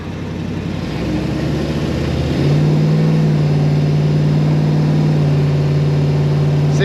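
Loud, close engine note from a 1969 Dodge Charger 440 R/T restomod with a TorqueFlight 727 automatic and Black Widow mufflers, a deep rumble that climbs as it accelerates and then holds a strong steady drone while driving.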